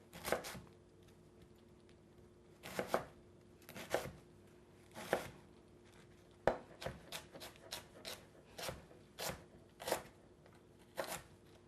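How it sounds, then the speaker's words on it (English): A knife slices vegetables very thinly on a cutting board in a home cooking setting, landing as sharp, separate chops in an uneven rhythm of about a dozen strokes, close and moderately loud with no talking. "just chop this up the same way you did the green, very thinly sliced"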